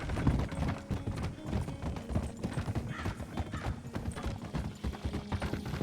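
Horse hooves clip-clop steadily on the ground in the RedM roleplay game, a continuous close rhythm of hoofbeats with a brief whinny in the mix.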